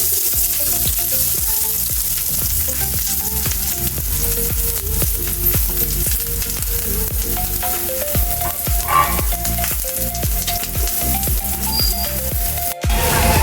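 Onions frying in a spoonful of oil, browning toward golden, with a loud, continuous close sizzle and crackle and an occasional stir, no voices.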